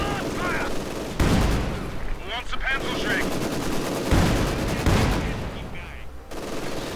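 Machine-gun fire from MG42 positions in Company of Heroes 2, a World War II strategy game, with dense bursts and blasts running through the whole clip under a busy battle soundscape and some game voices.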